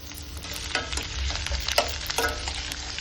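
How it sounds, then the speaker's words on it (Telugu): Beetroot pieces fry in a pan with a busy, close sizzle, broken by repeated scraping and stirring strokes throughout. "ఇలా బీట్ ముక్కలన్నీ ఫ్రై చేసుకోవాలి"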